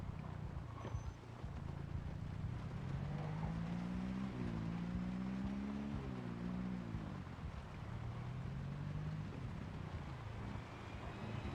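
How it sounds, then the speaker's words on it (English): A car engine runs steadily at a low, droning pitch, with slow rises and falls in tone as if revving gently, recorded faintly inside or near the vehicle amid wind noise and no talk. "the car is on, and they hear the car"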